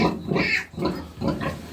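A sow that has recently farrowed 17 piglets gives repeated close grunting calls in three loud bursts across the short stretch, with no talk over it.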